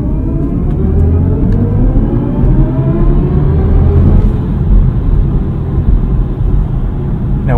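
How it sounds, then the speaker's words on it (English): A 2023 BMW i4 eDrive40 electric car accelerating hard from a standstill under launch control, a loud steady interior rumble of road and tyre noise with a faint rising electric whine, no talk. "let's sneak in a quick launch control start here"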